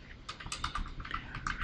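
Computer keyboard keys clack in a quick, close series of light taps ending with a press of the Enter key, faint and alone without voices.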